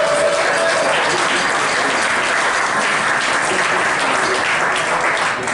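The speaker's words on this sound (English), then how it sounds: "Please give a round of applause here." Steady, loud applause from a crowd at a county commission candidates' debate, dense clapping sustained evenly for several seconds with no talking.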